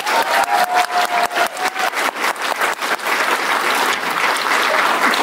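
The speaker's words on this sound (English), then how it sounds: "Round of applause, please." Audience applause for a graduating art class at a graduation ceremony, loud and close, opening with distinct sharp claps that quickly merge into dense, sustained clapping.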